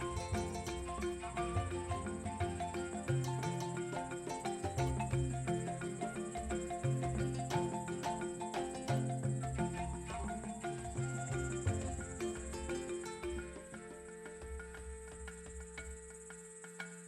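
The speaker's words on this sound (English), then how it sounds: "One black cicada." A black cicada calls in the wild with a continuous, buzzing insect drone, steady and fairly faint, alone and without any voices.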